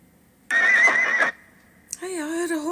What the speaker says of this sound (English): I heard a horse neigh.